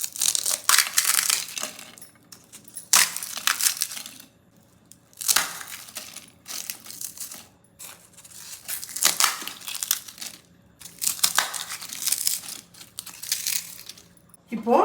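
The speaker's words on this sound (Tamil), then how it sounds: "இப்போது ஒரு பிளேட்டில் பூரியை உடச்சி போட்டுக்கலாம்" Crisp fried puris are crushed by hand onto a plate for street-style masala puri, making bursts of dry crackling and crunching that come in several separate rounds with quiet gaps between them.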